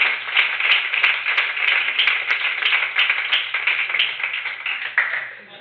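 An audience at a coding bootcamp demo day in Milan claps in a quick, uneven patter, moderately close, with a voice heard alongside before the applause tapers off.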